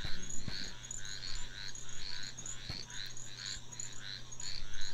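Frogs croak through a night scene in the video game Sword and Fairy 7, a steady pulsing chorus of repeated calls that rises and falls over a low ambient hum, with no talking.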